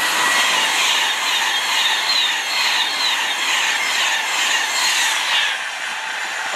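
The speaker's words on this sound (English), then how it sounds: "coming through now is the Virgin Pendolino service to Liverpool South Parkway." Virgin Pendolino electric train bound for Liverpool South Parkway passing through South Kenton station on the West Coast Main Line, a steady close rushing hiss and rumble of wheels on rails that eases slightly toward the end.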